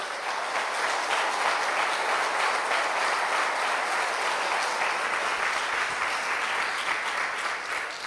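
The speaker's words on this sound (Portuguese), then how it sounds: "Vamos aplaudir o Senhor pela vida do vô." A church congregation applauding together, loud and even clapping that fills the space for about eight seconds with no pause or speech.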